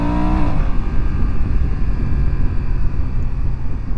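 A BMW F900XR motorcycle with its stock exhaust revs with a deep, bassy engine roar that holds steady and loud throughout, with no one talking.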